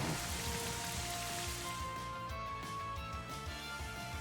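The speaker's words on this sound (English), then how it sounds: "Rain Dance goes off." Rain Dance move effect in Pokémon Scarlet: a continuous wash of rain falling, steady and even with pattering drops, faint and without voices.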